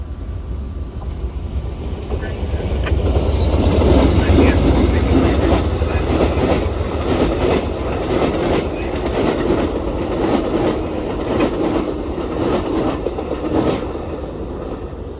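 An Amtrak passenger train passes in Central Florida, heard from indoors through a window: a loud, steady rumble that swells and holds, with rhythmic clickety-clack of wheels over rail joints throughout.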